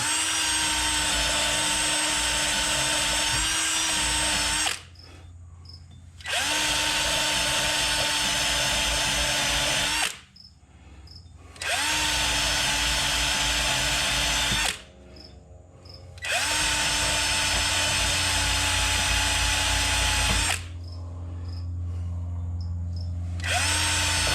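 A power drill spins a wire brush in long, loud grinding runs on a 2006 Nissan Altima's brake hub, stopping briefly four times before starting up again.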